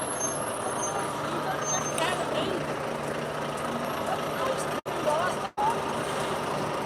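Truck hauling animals pulls up on a road, with steady loud engine rumble and traffic noise throughout, a hiss of air brakes, and voices talking over it.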